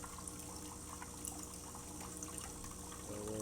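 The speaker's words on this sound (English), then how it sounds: "Oh, actually, this is the hot water." An Ascaso espresso machine dispenses hot water after a thermostat repair, a soft steady trickle and pour into a cup that deepens slightly toward the end.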